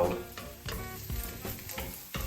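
Wild asparagus and seafood stir-frying in a pan, loud close sizzling in repeated bursts as the spatula tosses the food, with scraping between surges.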